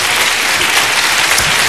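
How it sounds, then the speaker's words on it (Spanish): Loud, close applause from a concert audience for children who performed in a Don Quixote musical tale, a brief dense burst of clapping. "Muy bien, un aplauso para ellos,"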